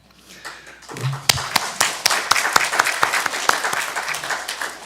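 A church congregation at a Sunday service claps in a steady rhythm, sharp regular beats rising over a background of scattered hand claps and room noise after a quiet start.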